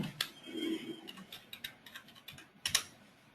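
Keystrokes tapped on a computer keyboard while logging into an Oracle Apps R12 application, a run of uneven, close clicks with a couple of sharper louder strikes near the end, no voices.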